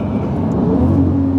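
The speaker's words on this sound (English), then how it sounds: "Woo! V12! That's sick." A Lamborghini Murcielago SV with its V12 engine revving, a loud, steady, close mid-range roar that holds for about a second and a half with a faint rising whine near the end.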